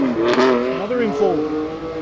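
A BMW M4 race car accelerates hard at a roll racing event at Queensland Raceway, its engine note climbing through rising revs with gear changes, close and loud, while people talk excitedly over it.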